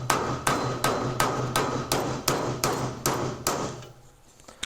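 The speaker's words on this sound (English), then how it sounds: "a hammer, and we're just going to pound these up." Steel hammer pounding a 5/8 socket to drive out a cam bearing from a Harley XLCH engine case, about ten evenly spaced sharp metallic blows, close and loud, then stopping.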